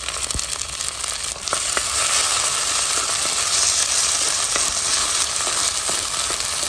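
One medium chopped tomato sizzling in a pan over medium-low heat for a traditional Goan dish, a steady close hiss and crackle with occasional faint stirring clicks, no voices.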